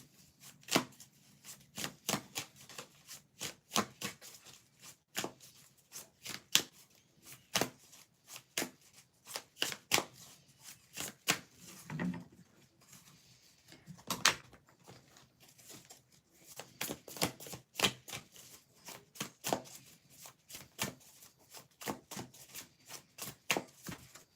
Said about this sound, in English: Let's give this a quick shuffle before we get started